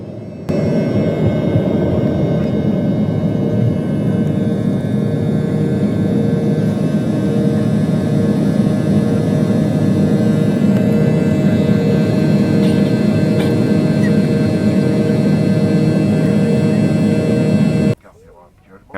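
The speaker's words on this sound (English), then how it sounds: "we'll enjoy this little cheeky takeoff" Steady, loud low-frequency roar of a passenger airliner's engines during takeoff, heard from inside the cabin, holding constant for about seventeen seconds before cutting off abruptly.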